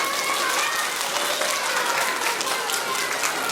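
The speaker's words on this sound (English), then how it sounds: "Let's give them one big round of applause." A school assembly crowd applauds math award winners, a sustained wash of many hands clapping at once with a few voices mixed in.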